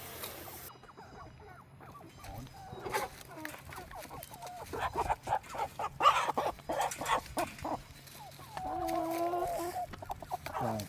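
Meat chickens in a pen cluck and squawk, close and busy, with irregular calls over a low steady hum and a louder rush near the end.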